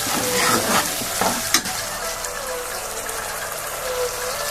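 Tomato sauce gets stirred into Manchurian frying in a pan, with a loud, continuous sizzle and a few scraping stir strokes early on, close up and with no voices.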